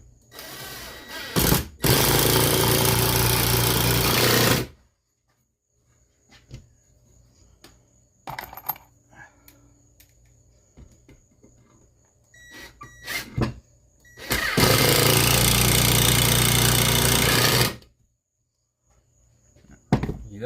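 A drill drives 3-inch drywall screws slowly in two long, loud whirring bursts separated by quiet gaps with small clicks and handling noise.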